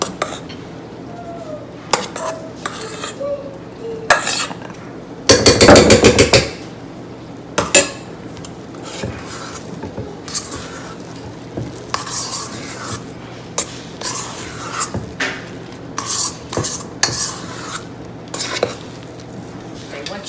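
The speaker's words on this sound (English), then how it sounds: "you take half of the whipping cream mixture and fold it in" Whipping cream mixture is folded into an almond butter cream cheese pie filling in a bowl, giving close, uneven scraping, clinking and soft stirring, with one louder burst of mixing partway through.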